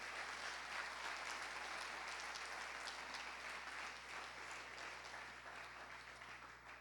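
During a family church service, a congregation claps in a faint, distant, continuous patter that stays fairly even and slowly tapers toward the end, with a low steady hum underneath.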